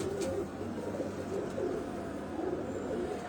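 Caged pigeons cooing softly and repeatedly in a low, rolling rhythm, faint and a little distant over a quiet room background.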